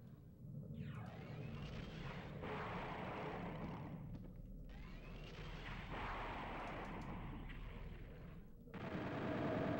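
Turrets in the Nintendo 64 shooter Doom 64 fire in sustained bursts, dense rattling gunfire in blocks with brief pauses, fairly faint and heavy with low rumble.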